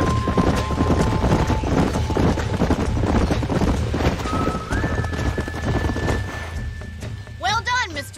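Horses in the Red Dead Redemption video game clop steadily on hooves with wind noise, then one gives a loud whinny near the end, while characters talk over the scene.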